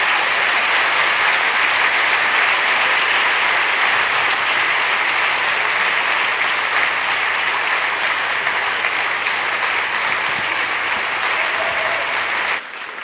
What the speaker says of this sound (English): let's give one final round of applause to Percival Everett.